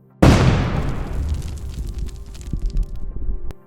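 Drone bombing strike on a barrel sheltering a soldier, one sudden loud blast followed by a long decaying roar with crackling debris and rumbling, then an abrupt cut at the end.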